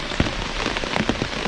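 Rain falls on a farm in Jamaica as a dense, close, continuous patter with scattered louder drops hitting nearby surfaces.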